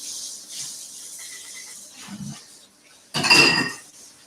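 A cooking pan is rinsed out at a kitchen sink while making meatballs: a soft running-water hiss and a dull knock, then a close, loud metallic clatter and ringing clink near the end, with no talking.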